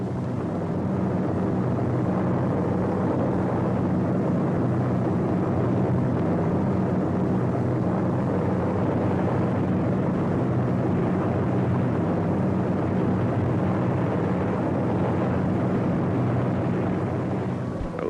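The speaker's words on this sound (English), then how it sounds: "Standing offshore, the invasion craft wait as Allied planes blast the coast." Allied aircraft bombarding the Normandy coast during the D-Day invasion, with invasion craft waiting offshore: a continuous loud, dense roar of engines and blasts that holds steady throughout with no pauses.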